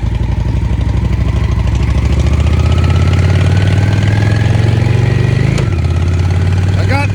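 A motorcycle engine idles with a loud, steady, throbbing rumble that rises slightly in pitch, then drops back with a brief clack, while someone talks over it.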